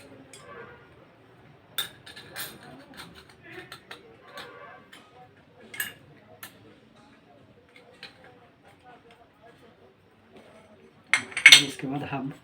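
Metal clutch plates and pressure plates being fitted into a Hero Splendor motorcycle engine give scattered light, close metallic clinks and ticks, quiet for most of the stretch, then a louder cluster of clattering near the end.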